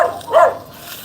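A single dog bark from a dog heard from a distance, short and moderately loud, followed by quiet.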